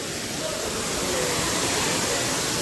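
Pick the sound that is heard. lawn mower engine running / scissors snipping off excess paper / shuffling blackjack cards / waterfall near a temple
waterfall near a temple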